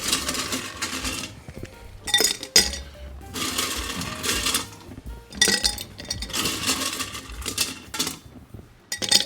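Ice cubes dropped into a glass while a bourbon cocktail is built, giving bursts of bright clinks and clatter in several short clusters, close and fairly loud with no talking.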